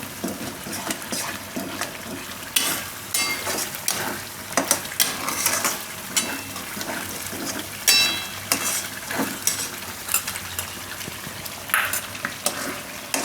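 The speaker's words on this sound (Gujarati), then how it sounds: "આ મલાઈ, જે આપણે તાજી મલાઈ રાખી છે એને મિક્સ કરીને" Fresh cream being stirred into a sizzling paneer and sweetcorn curry in a pan, with a steady run of scraping spoon strokes and light clinks over continuous frying crackle, close and fairly loud.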